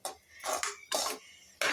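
A spoon stirs and tosses fried rice in a metal pan, producing four quick bursts of scraping and clattering close by, with short quiet gaps between strokes and no voices.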